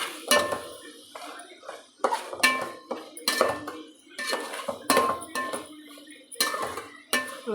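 A spoon clanks and scrapes against a metal pot as garam masala powder is stirred into rice, with sharp metallic knocks coming in uneven bursts separated by short pauses, close and clear.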